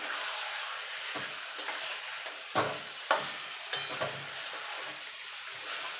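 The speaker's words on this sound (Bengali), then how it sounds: "মাংসটাকে একটুখানি মানে ভাজা ভাজা টাইপের করে নেব" Chicken pieces fry and are stirred in a pan, a close, steady sizzle broken by a few distinct spatula scrapes and clacks.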